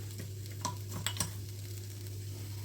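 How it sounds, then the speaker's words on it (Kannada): Green chilies frying in oil in a pan with tomato, a steady close sizzle with a few sharp stirring clinks and scrapes against the pan, no voices. "ಈಗ ಮೆಣಸಿನ್ಕಾಯಿ ಒಂದು ಸ್ವಲ್ಪ ಹುರ್ಕೊಳ್ಳೋಂತ"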